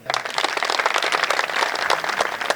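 A Hindi kavi sammelan crowd in Shahpura bursts into clapping for poet Ram Bhadawar, a dense, lively round of many hands sustained evenly for a couple of seconds.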